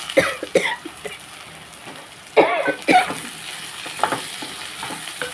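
Ivy gourd curry fries in a pan with a steady sizzle, broken by a few close scraping stirs and a brief cough.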